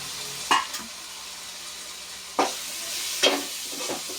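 Tomatoes and green chillies hit a hot pan for a cabbage and egg masala curry, giving three short sizzling bursts with quieter spans between them.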